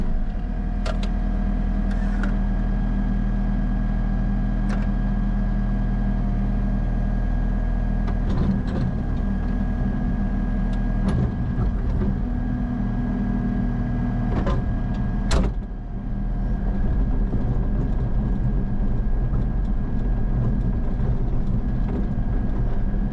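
A truck engine idles with a steady low rumble throughout, broken by occasional clicks and clunks from the cab, no talking.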